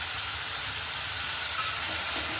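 Boiled lentils stirred with a ladle and eased into hot oil give a steady, dense sizzle and frying hiss, close and even throughout, with no voices over it.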